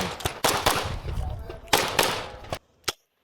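Pistol shots ring out at a USPSA shooting match, a string of sharp, loud cracks in quick irregular bursts with a pause and one final shot, under some talk.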